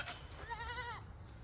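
A goat on a small farmstead gives a single wavering bleat, close and clear over a steady background hiss.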